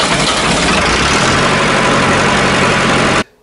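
An old Massey Ferguson 1080 tractor diesel idles close by with a loud, even rumble, then cuts off abruptly near the end.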